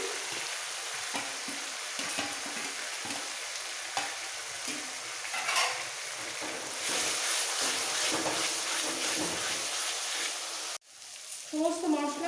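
Cumin paste and dried red chili paste frying for a Bengali mutton curry with potatoes: a continuous close sizzle with spoon stirring and scraping through the pan, a brief break near the end, then more stirring.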